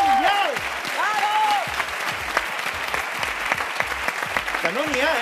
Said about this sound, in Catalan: Un aplaudiment per la millor banda en directe de la televisió mundial!